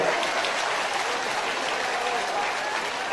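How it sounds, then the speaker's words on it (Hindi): Loud, dense applause from a large crowd at a BJP election rally in Gohad, Bhind, steady and sustained throughout with no pauses. "तो तालियों की गड़गड़ाहट से खोलो"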